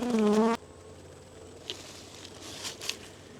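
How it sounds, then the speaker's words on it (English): Honeybees from a hive colony fed with fondant bags buzz softly and intermittently in the background, with a few faint closer passes, after a short loud tone at the start. "you gotta get these bees out of there."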